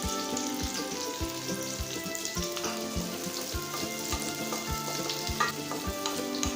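Small shallots sauté in hot oil in a pan for kambu idli accompaniment, a steady dense sizzle with crackling pops and occasional stirring scrapes, close and continuous with no talk.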